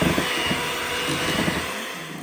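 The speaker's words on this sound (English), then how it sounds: "then just add 1/4 cup of heavy cream and then just blend until it is smooth and" Softened cream cheese and heavy cream whirring in a blender, a steady loud motor drone with a churning texture that holds throughout.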